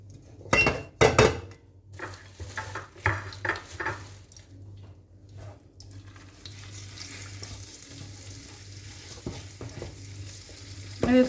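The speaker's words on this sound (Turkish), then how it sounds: "Kıymamı kavurarak başlıyorum." Minced meat frying in oil in a pan while a savory börek filling is made, with a steady sizzle, loud bursts of crackle and clattering stirring near the start, then a quieter continuous fry with occasional scrapes.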